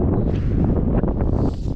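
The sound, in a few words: strong wind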